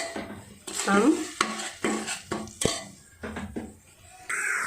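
Coriander, red chili and salt are stirred in a cooking pan with a spoon, giving a series of close scraping strokes and metallic knocks in an uneven rhythm, with a soft sizzle underneath.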